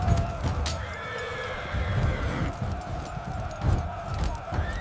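A horse whinnies over a low rumble of hooves, with a busy, continuous background of movement throughout.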